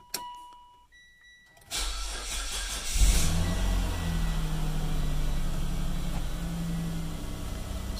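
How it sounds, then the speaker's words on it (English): A 2010 Mitsubishi Outlander XLS 3.0 V6, just fitted with a new alternator, cranks and fires up after a few faint beeps, then settles into a steady, close low idle hum. "So now we're just gonna let it idle and see if that fixes the problem."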